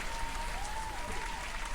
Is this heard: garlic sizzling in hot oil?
no